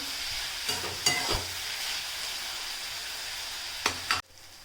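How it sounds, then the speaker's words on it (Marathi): Onion frying in a pan with a little salt, giving a steady close sizzle with a few sharp clinks and scrapes of a utensil, then an abrupt drop in sound near the end. "आता आपला इथे अर्धा कांदा शिजत आलेला आहे"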